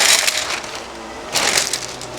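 Parchment paper crackles and crinkles in two bursts as it is crumpled, a dense crushing rustle up close with a brief lull between.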